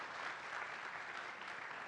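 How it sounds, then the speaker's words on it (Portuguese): Audience clapping at a federal judiciary symposium on public procurement and contracts, welcoming a professor to the stage, a soft, even patter of applause heard from a distance with no voices over it. "Uma salva de palmas para ele."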